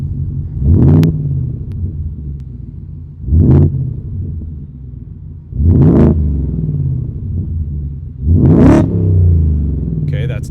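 A Ford F-150 Raptor R engine revs up four times in short bursts, each rise climbing sharply before dropping back to a deep, rumbling idle, loud and close with no talking.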